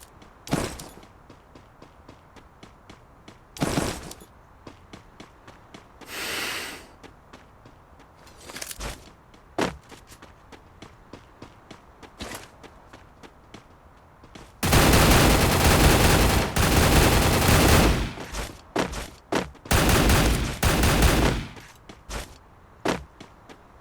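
Video game gunfire: scattered single shots and short bursts early on, then a sustained loud volley of rapid automatic fire lasting several seconds, followed by a few more isolated shots.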